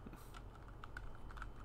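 Keys on a computer keyboard tapped irregularly during play of Kingdom, a handful of crisp close clicks with a faint hum underneath and no talking.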